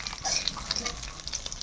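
Fish fry in hot oil in a home kitchen pan, a steady crackling sizzle that fills the short moment at close range, with light bubbling and spatter and no voices.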